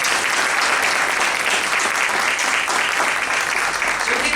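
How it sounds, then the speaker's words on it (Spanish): Strong, sustained audience applause at an inclusive storybook presentation in a cultural center in Maldonado; dense, loud clapping from a crowd, continuous and even throughout, with faint voices mixed in. "Un aplauso a Sofía."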